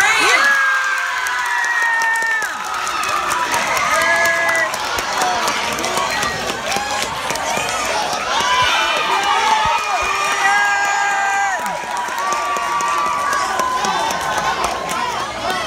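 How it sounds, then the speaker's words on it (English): A middle school awards ceremony crowd cheers, whoops and claps for a student, with loud shouting from children and a continuous roar of voices at close range and high level. "Clap your hands for Julian Duran."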